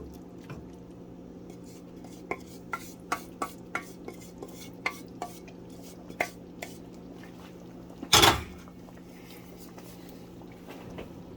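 Spoon scraping and clinking in a pot of roast pork and sauerkraut cabbage, with a series of sharp, evenly spaced clinks and one louder clatter near the end, over a steady low stove hum.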